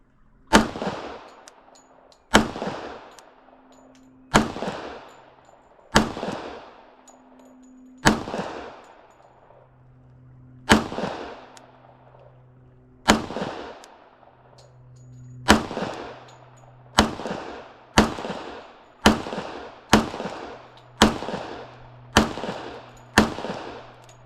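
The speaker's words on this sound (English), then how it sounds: "let's do a little bit more shooting" An FNX-45 pistol fired at a target outdoors, about fourteen sharp loud shots spaced a second or two apart, quickening toward the end, each ringing briefly, with no talk.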